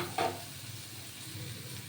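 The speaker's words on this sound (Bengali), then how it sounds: "চাল দিয়ে ফ্রাইড রাইস হচ্ছে হ্যাঁ দেখুন এই ভাজা হয়ে গেছে" Rice frying in a pan at home for fried rice: one quick stirring scrape near the start, then a steady soft sizzle throughout, close and moderately quiet.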